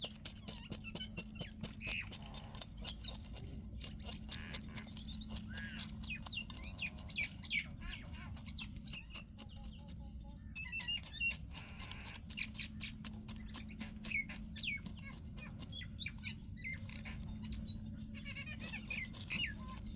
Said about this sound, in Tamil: மைனா கத்திக்கிட்டு இருக்காங்க. கிளி கத்தல மைனா தான் கத்திக்கிட்டு இருக்காங்க.